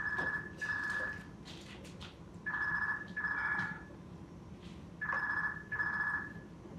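A telephone rings in a stage play, in three pairs of medium-loud electronic rings separated by short pauses, with no talk over them.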